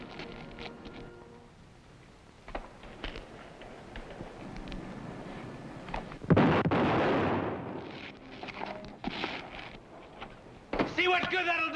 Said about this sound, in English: Bob Bollinger heard the shots and came running out.